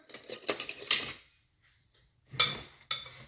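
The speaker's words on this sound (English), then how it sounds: "I'm gonna stir it up here" A utensil stirring apple pie filling with lemon zest in a bowl, a few close clinking scrapes in short bursts separated by brief silences.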